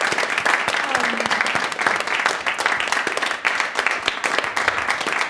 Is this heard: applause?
yes